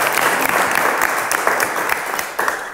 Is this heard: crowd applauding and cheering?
yes